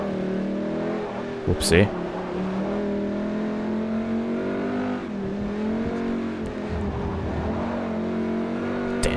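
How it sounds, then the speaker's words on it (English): A race car's engine in Forza Motorsport 4 revs high and steady, nearly hitting the limiter, with a brief sharp squeal and a loud continuous drone under a voice. "Almost overrevved the engine."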